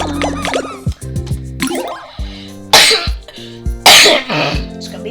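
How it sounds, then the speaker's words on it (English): Several sharp coughs and throat-clearing bursts sound up close, loud and abrupt, scattered among other short noises. "It's gonna be the only cough."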